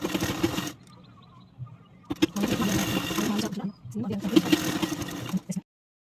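A sewing machine stitches a blouse in straight seams, running in loud motor bursts separated by short pauses, close by.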